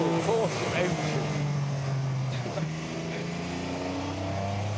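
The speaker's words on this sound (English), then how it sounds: "Oh, the sound of that purring," A powerful Porsche engine purrs at steady revs on a long straight of a narrow Italian road, a smooth low drone with shifting pitch that rises and drops across a gear change, heard close under a voice.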